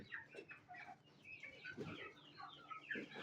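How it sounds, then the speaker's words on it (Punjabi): Rooster eating finisher feed, giving quiet, close clucks and soft chattering calls in short irregular bursts over several seconds, with no talk. "ਬੜੇ ਚਾਵਾਂ ਨਾਲ ਮੁਰਗਾ ਫਿਨਿਸ਼ਰ ਫੀਡ ਖਾ ਰਿਹਾ ਹੈ"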